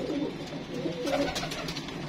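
Pigeons in a breeding loft coo in soft, repeated low calls, fairly close and steady, with a faint hum of background noise around them.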